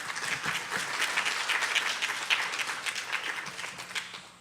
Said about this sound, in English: please, a round of applause for the panelists here